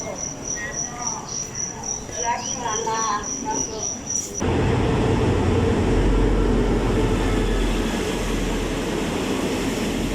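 Insects chirp under a faint voice, then a train's loud, steady rumble suddenly swells and roars on without a break as it enters the Pha Sadet tunnel in Thailand.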